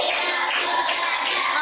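Schoolchildren in an elementary classroom clapping hands together during a counting clap game, a dense burst of loud group claps in quick rhythm, no talk.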